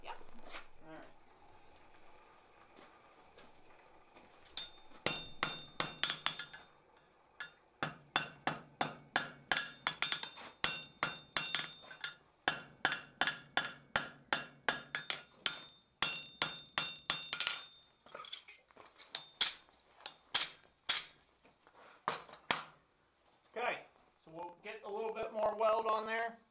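A hammer strikes a hot chain link during forge welding, ringing in rhythmic runs of sharp metallic blows separated by brief pauses, with faint voices in the background.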